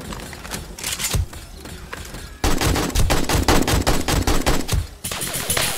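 Rapid repeated gunshots from the Alpha 20 version of 7 Days to Die, loud and close, first as spaced shots and then a fast steady volley of evenly spaced bangs.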